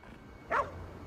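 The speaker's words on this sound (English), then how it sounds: "What's he barking at?" A dog in the video game Ghostwire Tokyo gives a single short bark, faint and somewhat distant, over a low background hum.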